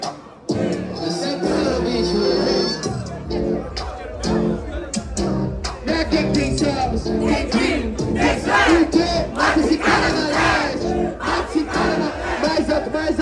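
A crowd at a Brazilian street rap battle roars and cheers loudly and continuously, a dense wall of shouting voices close by, with a host's voice over it.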